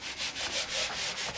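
Bondo body filler being sanded by hand on a Miata body panel, a rhythmic back-and-forth rasping of close strokes, about six passes in quick succession, with no talking.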